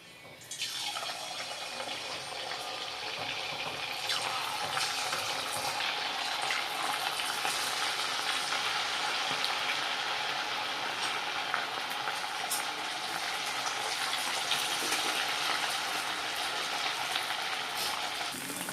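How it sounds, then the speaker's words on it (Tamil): Chicken frying in hot oil in a home kitchen, a steady, dense sizzle and crackle that holds evenly loud throughout without pause. "ஃப்ரை பண்ணி எடுத்துடலாம்."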